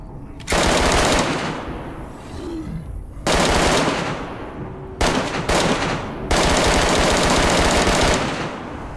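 Sustained automatic gunfire in the video game DayZ: long, loud bursts of rapid shots with brief gaps between them, dominating the soundscape.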